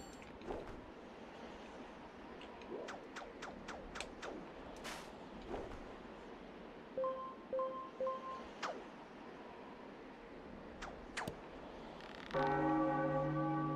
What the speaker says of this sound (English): There's a bell up above and a bell down below.